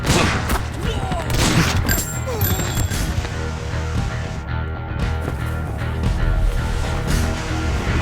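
Dense, sustained gunfire from an action movie scene rattles on for the whole stretch, loud and chaotic with booms and clatter layered together and voices mixed in.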